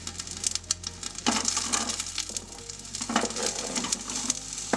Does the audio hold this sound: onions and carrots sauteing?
yes